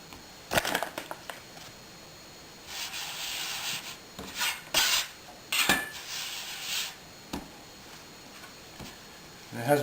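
French bun dough is kneaded by hand to press the air out, making soft rubbing and slapping bursts with a few faint pops, recorded close-up in a quiet kitchen.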